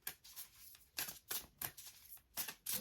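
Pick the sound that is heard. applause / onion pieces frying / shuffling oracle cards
shuffling oracle cards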